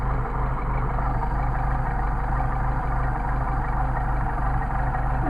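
A Mercedes 190SL engine idles with its Solex carburetors freshly adjusted, giving a steady, even low rumble with a smooth, regular pulse that runs unchanged throughout, close by and with no talking.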